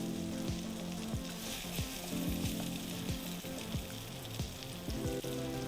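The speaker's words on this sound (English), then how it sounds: "first take our butter and add it to the dish" Butter sizzling in a pan for a one-pan peppered salmon dinner gives a steady, moderately quiet hiss, with a low rhythmic hum and repeated faint knocks running under it.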